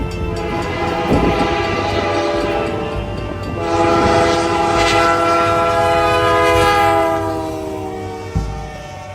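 A CPKC freight train passes at Craighurst, sounding a loud, sustained horn over the heavy rumble of the cars, with the horn swelling and fading across most of the pass.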